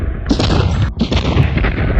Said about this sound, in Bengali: রাসেলকে ভেতরে নিয়ে গেল এবং তারপর ব্রাশ ফায়ার।